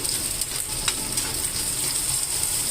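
Onion fries in a thick, heavy pan with a dense, continuous sizzle and occasional light scraping, close and fairly loud, with no talking.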